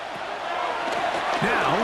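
Loud, steady roar of a large stadium crowd in the Madden NFL 26 video game, a Buffalo home crowd before third down, with voices rising and falling in waves throughout.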